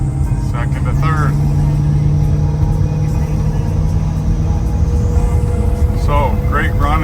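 Engine of a 1972 Chevrolet K pickup truck pulling hard under acceleration with a loud, continuous low rumble filling the cab, revs sweeping up and dropping at gear changes from second to third, with someone talking over it.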